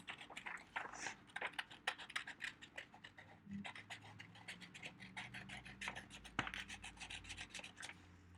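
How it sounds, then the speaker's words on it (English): Close, quiet scratchy snipping and rustling of paper being cut, in quick irregular bursts with no voices. "you want to take your scissors and you want to cut out"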